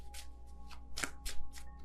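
Tarot cards shuffled and drawn by hand, a quick run of crisp papery riffles and flicks in short bursts, close and clear with no talking.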